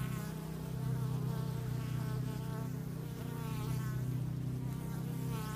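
Honey bees fanning and flying at a beehive entrance on a warm day, a continuous low droning buzz of many wings, steady and close, with no voices.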